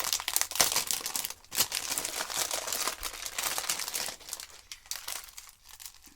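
A thrift store packet is opened by hand, giving a loud, continuous crinkling of plastic with sharp rustles and brief tearing crunches, close up and with no voices.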